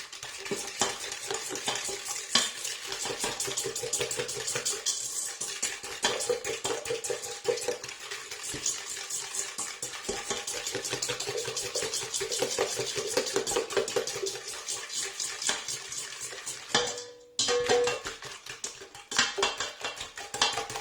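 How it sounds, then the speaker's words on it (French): Pancake batter mixed with sugar and vanilla sugar in a mixing bowl, a fast continuous whisking clatter against the bowl, near and steady, with a brief pause toward the end before resuming. "Et on va mélanger."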